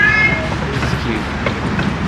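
A Christmas lights train ride rattles along with a steady rumble and clatter of the cars, loud and close, while people talk and chatter around it.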